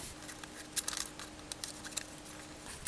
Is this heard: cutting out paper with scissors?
yes